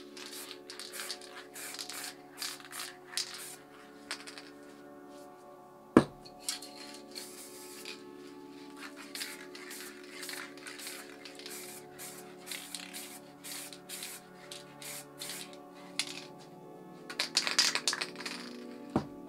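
An MTN Hardcore spray paint can, cap pressed lightly for misting, hisses in a series of short bursts with brief pauses, a sharp click midway and a louder flurry of spraying near the end.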